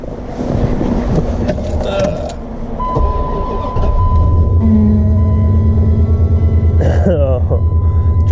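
A truck engine cranks and turns over in snowy cold weather, with strained starter noise giving way to a steady, loud idle rumble and a faint whine; a short voice is heard near the start.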